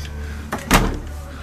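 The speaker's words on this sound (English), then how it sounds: "Big tall closet doors." Tall closet doors in a 2018 Merhow 8W horse trailer with living quarters and slide-out swing open with a short thump followed by a louder knock, close by and alone.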